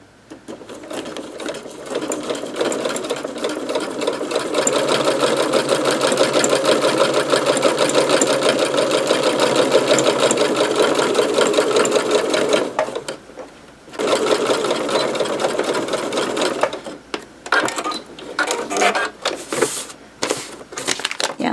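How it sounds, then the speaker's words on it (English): A sewing machine stitches seams through paper in a loud, rapid, continuous whir for about twelve seconds, pauses briefly, then runs again in shorter bursts broken by stops. "we're just going to sew a couple of seams"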